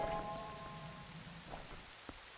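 Steady rain hiss in the video game Twilight Princess, a soft continuous patter with a few brief tonal chimes early on and a light drip near the end, fairly quiet throughout.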